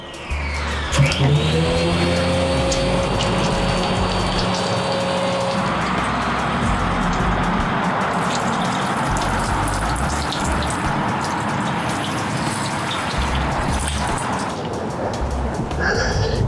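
Pressurized water sprays from a Keeve nozzle while rinsing a coated 1993 Nissan 240SX, a loud continuous hiss with a brief rising mechanical tone at the start, steady for the whole stretch.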